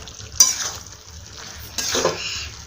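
Vegetable pulao with half a spoon of turmeric being stirred in a pan: two scraping spoon strokes against the metal with soft clinks, under a faint steady sizzle, close and moderately loud.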